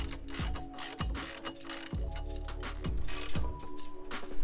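A ratchet tightens caliper bracket bolts on a Dodge SRT-4 during an axle replacement, giving close, loud bursts of rapid pawl clicks with short pauses between strokes and no talking.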